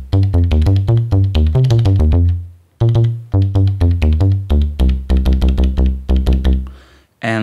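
Elektron Digitone bass preset "bass fat short": a loud run of short, punchy synth bass notes in a bouncing sequence, with a brief gap midway before the pattern resumes, no voices.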